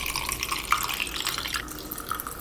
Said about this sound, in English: Time to pour the oat milk.